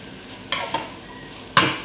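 Beetroot stir-fry being turned in a pan, three sharp scraping clacks of a spatula against the metal, the last the loudest, close up over a faint low background and no talk.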